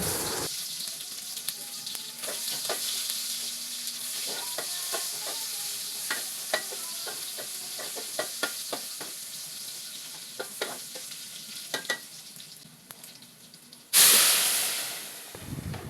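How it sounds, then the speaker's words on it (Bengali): Cumin, chopped onion and garlic sizzling in hot oil to temper maskalai dal, a steady hiss broken by sharp spoon clinks and scrapes, ending in a loud burst of sizzle as the tempering hits the dal. "এখন আমি ডালটি বাগার দিয়ে দেব। এখানে আমি বাগার দেওয়ার জন্য নিয়েছি জিরা, পেঁয়াজ কুচি এবং রসুন।"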